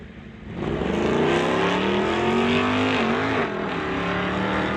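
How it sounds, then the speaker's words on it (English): A big pickup truck roars down a quarter-mile drag strip, with a loud sustained engine drone that climbs steadily in pitch through its gears and dominates the scene without any voices. "Derek Johnstone driving the big pickup, heading down the quarter mile"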